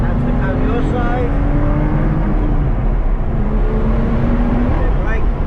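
A BMW M2 engine drones and rises under acceleration on a race track, loud and continuous from inside the car, with a voice talking over the engine noise.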